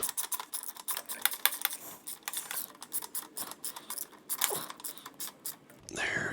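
Ratcheting clicks from tightening a bolt on the rear brake of a 1985 Honda Shadow VT500, a rapid run of close, quiet mechanical ticks in short bursts, with no talking.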